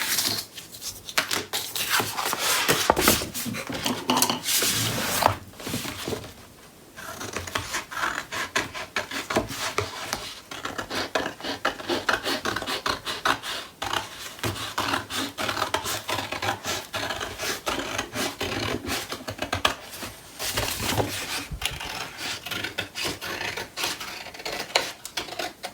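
Paper being trimmed for an 8.5 x 8.5 inch six-page mini album, a steady close rasping and rubbing that runs throughout with a brief pause near the middle, no talking.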